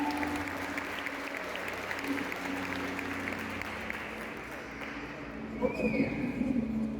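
Church congregation applauding, a steady wash of many hands clapping through the room, with a faint tone and some voices rising near the end.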